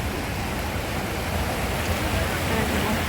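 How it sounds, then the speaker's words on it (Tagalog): A waterfall in Hong Kong Park gives a steady, dense rushing hiss of falling water, constant and fairly close, with nothing else standing out. "waterfalls."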